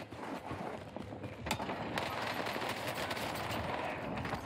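Rapid gunfire in Call of Duty on Rebirth Island, quick bursts of shots and clattering rattles over a continuous background rumble, fairly faint and distant-sounding, with no talk.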